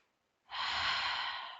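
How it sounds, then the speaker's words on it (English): A single deep breath taken during a yoga flow, a long, close, steady breathy rush of air that starts abruptly after a moment of silence and holds for over a second. "Take a moment for a deep breath."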